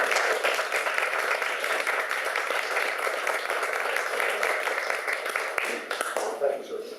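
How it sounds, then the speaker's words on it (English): Applause from the public gallery at the Del Rey Oaks city council meeting, a steady dense patter of many hands lasting several seconds at moderate distance, tapering off near the end. "Let's have a round of applause."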